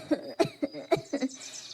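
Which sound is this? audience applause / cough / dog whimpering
cough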